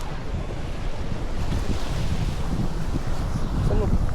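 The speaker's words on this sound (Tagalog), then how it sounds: "Ay, ang hangin yan." Strong wind buffeting the microphone on an island beach in Medellin, a loud, steady roar mixed with surf, continuous throughout.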